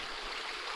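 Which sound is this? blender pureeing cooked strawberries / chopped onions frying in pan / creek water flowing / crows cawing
creek water flowing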